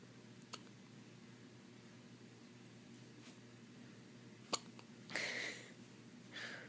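A few sharp hiccups from a person, spaced irregularly, with a quiet breathy stretch near the end, heard close and fairly faint against low background hiss.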